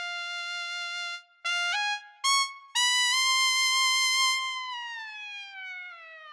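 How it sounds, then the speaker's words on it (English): A Realitone Screaming Trumpet sample library plays a bright lead trumpet line of short stabbed notes stepping upward, then a long high held note that slowly bends downward, heard clearly on its own. "Then Screaming Trumpet from Realitone is a cool library that features Wayne Bergeron"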